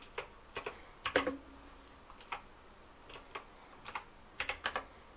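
Computer keyboard typing at a Raspberry Pi terminal, scattered light key presses in small clusters, close and quiet, with no talk.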